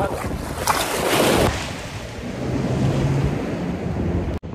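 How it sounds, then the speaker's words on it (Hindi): Ocean waves rolling in at a Goa beach on a cloudy, chilly day, loud continuous surf washing close by with heavy wind buffeting the microphone and a voice faintly speaking beneath. "लहरे आइए लहरे आइए"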